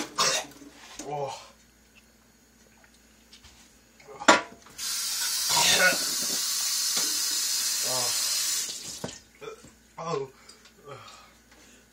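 Water gushes from a tap into a sink for a few seconds, a steady hiss between bursts of coughing and speech before and after.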